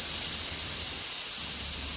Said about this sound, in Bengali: এর মধ্যে দেখো প্রেশার কুকারে সিটি পড়ে গেছে